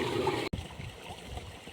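Irrigation water flows and trickles steadily close by on a farm, briefly interrupted by a short cut, then continuing softly.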